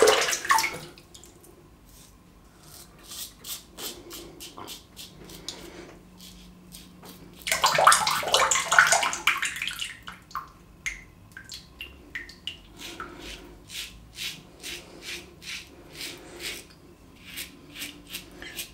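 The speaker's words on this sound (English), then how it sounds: "Faucet. It's not a faucet, it's a tap." Water runs from a bathroom tap while shaving, a soft splashing flow that swells loudly for a couple of seconds, surrounded by quieter drips, rinsing and rubbing sounds.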